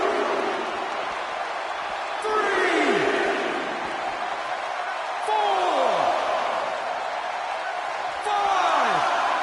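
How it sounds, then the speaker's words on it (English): Crowd cheering in a WWE wrestling video game, a steady roar of noise with swelling whoops and surges every few seconds, while a commentator talks over it. "by the sound of this crowd, I think they're getting what they wanted"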